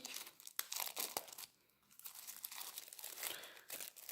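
Cellophane wrapping peeled and crumpled off a Dreaming Way Tarot card deck: close, crisp crinkling in uneven bursts with a brief quiet pause partway through, and no voices.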